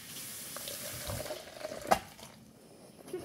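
Water poured into a bowl of noodles for microwave cooking, a short splashing pour that peaks once and then settles, close and moderately loud.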